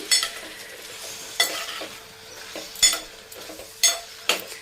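Tomato chutney for idli is stirred in a pan, with a soft sizzle under repeated scraping strokes of a spoon against the pan, including several sharper louder scrapes.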